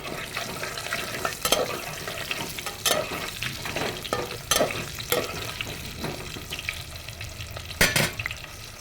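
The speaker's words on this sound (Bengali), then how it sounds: "তেলটা গরম হয়ে গেছে, ওর মধ্যে আলু, লবণ আর হলুদ রেখেছি।" Potatoes with salt and turmeric fry in hot oil for a native chicken curry, giving a steady close sizzle broken by several sharp stirring and scraping bursts, with no talking.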